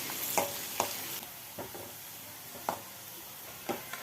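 Five long-sliced onions fry in oil in a pan, a soft steady sizzle punctuated by about six distinct spatula stirring knocks, close and quiet with no voices.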